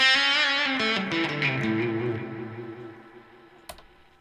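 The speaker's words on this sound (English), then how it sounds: "This is kind of where we get some of the cascading, slightly weird tape sounds" Tape echo unit in swell mode on head number 1, a played phrase smearing into cascading, warbling repeats that thicken and then slowly fade, with a sharp click near the end.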